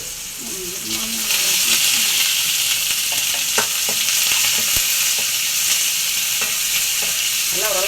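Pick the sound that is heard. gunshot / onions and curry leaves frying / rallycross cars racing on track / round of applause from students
onions and curry leaves frying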